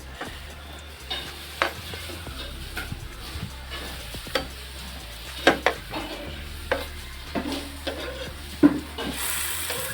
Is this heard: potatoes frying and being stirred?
yes